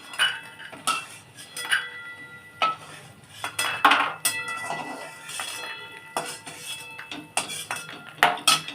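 Fried lentil dumplings (bori) scooped out of a pan, heard as a series of sharp metallic clinks and scrapes of a spoon against the pan in an irregular rhythm, close by.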